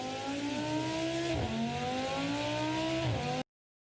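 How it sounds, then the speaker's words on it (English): A car engine runs while the car is moving, a droning, revving whine that climbs in pitch, drops sharply at two gear changes, then climbs again before cutting off abruptly. "When the car is in motion, the engine produces sound."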